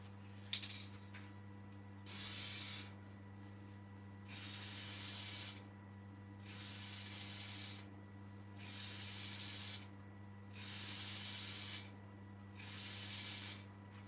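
Clear coat lacquer sprayed from an aerosol can onto a gin glass in six separate hissing bursts of one to two seconds each, with short pauses between them and a steady low hum underneath.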